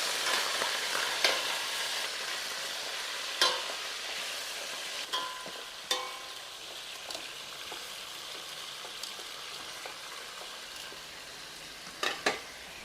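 Pork from a meat shop fries in a pan with a steady, close sizzle, punctuated by occasional sharp clinks and scrapes of stirring.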